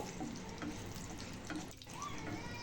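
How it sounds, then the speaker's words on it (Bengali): Bay leaves, cardamom and cinnamon fry lightly in hot oil in a heated kadai, giving a steady, dense hiss that runs unbroken and close for the whole stretch. "কড়াই গরম করে এতে আমি তেল দিয়ে দিয়েছি তারপর এর মধ্যে আমি দিয়ে দিলাম দুটো তেজপাতা আর দিয়ে দিলাম এলাচ দারচিনি এগুলোকে হালকা একটু ভেজে নেব"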